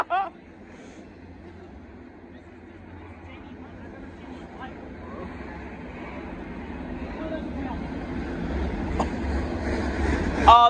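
A southbound BNSF intermodal freight train rumbles past steadily in Temple, Texas, growing louder toward the end, with a low mechanical drone and occasional clanks.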